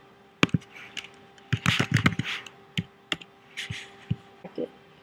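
Keys on a computer keyboard are tapped in short irregular bursts of close, crisp clicks, with pauses between clusters, over a faint steady hum.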